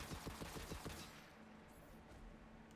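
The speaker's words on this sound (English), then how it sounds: "I gotta keep shooting it." Rapid gunfire at a target in a video game, a fast burst of repeated shots for about a second, then a quieter lingering tail, all faint.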